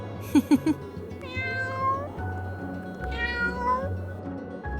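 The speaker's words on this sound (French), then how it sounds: "Il la regardait et miaulait doucement, voulant sûrement lui dire quelque chose." A cat meows softly and repeatedly, giving two drawn-out, rising mews close by over a low background hum, with a few brief knocks at the start.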